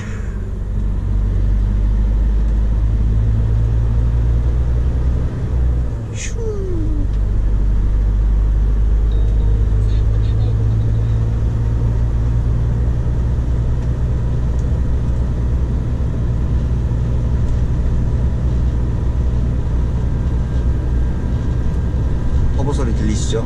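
Commercial vehicle engine with turbocharger drones as a constant loud low rumble with a faint airy whine on top, continuing steadily throughout with no talk heard.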